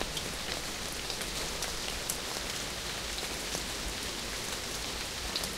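Steady rain in the video game Amayui Castle Meister, a dense, even hiss of falling drops with scattered patters, continuous and uniform with no voices.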